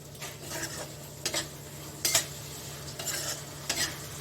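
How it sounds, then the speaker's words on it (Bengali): Spice paste with salt and boiled potatoes stir-fried in a pan, a low steady sizzle broken by several sharp scrapes and clinks of a utensil against the pan, close up with no talk. "এখন একসঙ্গে একটু আমি এটাকে কষিয়ে নিচ্ছি"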